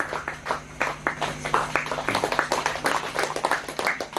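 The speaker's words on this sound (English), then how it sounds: "A big round of applause for one country." An audience at a training session applauds with dense, steady clapping sustained for several seconds over a low hum.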